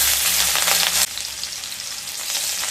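Chopped garlic hits hot mustard oil in a wok with a bright, loud sizzle that drops to a softer, steady frying hiss after a second.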